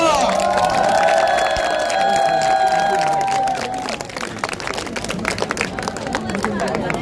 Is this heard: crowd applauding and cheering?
yes